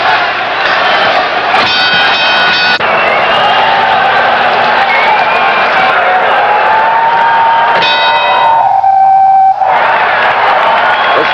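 Boxing crowd at the Boston Garden roaring and cheering for Marvin Hagler, a loud, sustained wall of voices with whoops and shouts swelling and surging throughout.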